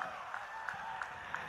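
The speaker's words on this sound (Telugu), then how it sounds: "మరొకసారి గట్టిగా చప్పట్లతో మీ అభిమానాన్ని తెలియజేయాలి" An audience claps at a public political welcome event in Kadapa, a faint, distant and steady patter of applause with no voices standing out.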